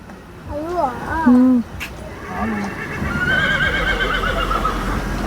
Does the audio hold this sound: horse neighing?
yes